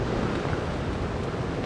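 A steady, dense rush of falling water roars at the foot of Namawali falls, loud and unbroken, with no voices.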